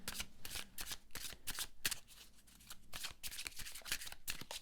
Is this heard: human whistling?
no